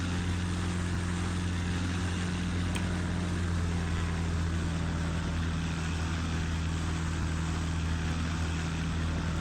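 A Cessna 402 twin propeller plane in a Roblox flight simulator drones steadily on approach with throttle applied, a constant loud hum of engine tones with no talk over it.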